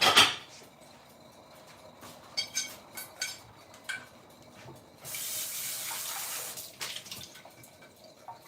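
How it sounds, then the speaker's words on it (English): Hot water runs from a tap into a jar for a morning remedy. After a few clinks and handling knocks it pours as a steady hiss for about two seconds, then stops. The sound is close and fairly quiet. "we're going to add some hot water."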